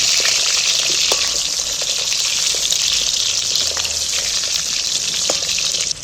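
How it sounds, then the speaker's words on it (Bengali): Potatoes sizzling in hot oil as they are stirred and fried for egg biryani, a steady bright hiss running evenly throughout with a few faint clinks, no talk. "আলুগুলো আমি একটু ভালো করে নাড়াচাড়া করে তেলের মধ্যে ভালো করে ভেজে নিই"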